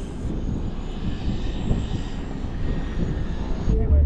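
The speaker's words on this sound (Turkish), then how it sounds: "Şimdi iniş yapıyor. Bakın böyle iniyormuş." A seaplane comes in to land on the sea in the Maldives, its aircraft engine droning loudly and steadily throughout at close range with no break.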